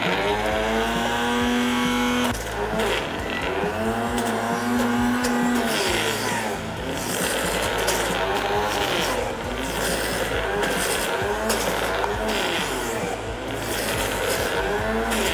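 A juicer extracting carrot juice runs as a loud, steady motor whine with shifting tonal overtones that rise and fall throughout, and a voice faintly underneath.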